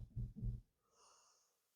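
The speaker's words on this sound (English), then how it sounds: "Big deep breaths." Two deep, audible inhales during a gentle beginner yoga session, each a short breathy rush, followed by a softer, airy exhale that trails off into quiet.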